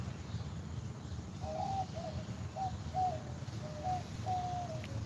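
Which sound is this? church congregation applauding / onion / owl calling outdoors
owl calling outdoors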